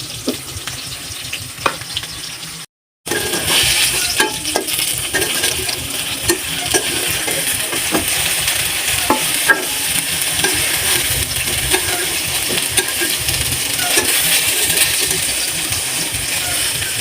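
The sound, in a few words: eggplant and fish frying in a pan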